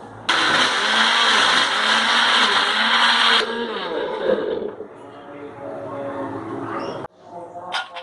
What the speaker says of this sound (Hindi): दूध ऐड करेंगे, अब हम इसे अच्छी तरह ब्लेंड कर लेंगे।